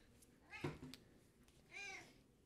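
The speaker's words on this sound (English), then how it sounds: "my cat is meowing at me" A cat meows twice nearby, a short cry followed by a longer drawn-out one, in an otherwise quiet room.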